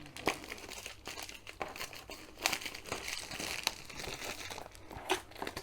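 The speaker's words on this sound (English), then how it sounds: "cellophane off." Cellophane wrapping peeled off a Diamond Art Club kit box, a quiet, close run of crinkling and crackling with irregular sharper snaps.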